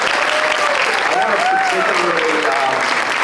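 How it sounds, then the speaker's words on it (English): Steady applause from a crowd at a ceremony launching Amtrak's Mardi Gras train service, continuous clapping at a loud, even level with a few voices calling out over it. "Please give them a round of applause."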